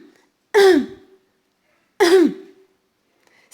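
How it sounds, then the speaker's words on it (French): Two sharp throaty coughs, spaced about a second and a half apart, loud and close with silence between them. "Ça, c'est tousser."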